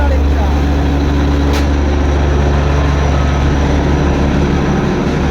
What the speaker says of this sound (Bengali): এত সামনে থেকে যদি টয় ট্রেন যদি দেখতে হয় এরমভাবে